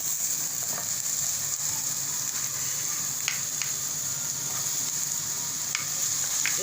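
Green onions sizzling in a pan while being stirred for aloo paratha filling, a steady frying hiss with occasional light scraping clicks of the utensil.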